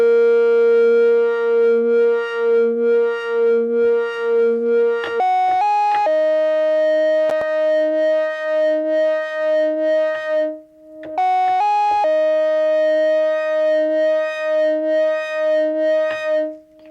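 A Novation Bass Station II synthesizer plays a sustained, buzzy tone with overdrive, a touch of distortion and added resonance, holding steady notes that step between a few pitches with pulsing rhythmic wobble, loud and alone.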